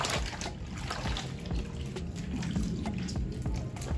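Water runs steadily from a tap while a wig is rinsed, a continuous close splashing wash with small drips and trickles and no talking.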